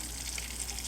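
Fish frying in a blend of sunflower and extra virgin olive oil, giving a steady, faint hiss of sizzling that runs without a break and with no talk over it.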